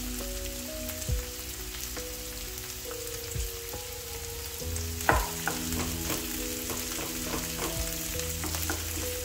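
Onions slowly frying and caramelizing in a pan, a soft continuous sizzle with scattered light pops and crackles, quiet and close, over a faint tonal background.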